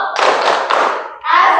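Classroom clap chant: a burst of rhythmic hand clapping in unison, loud and close, a quick series of claps, a brief pause, then another clapping burst.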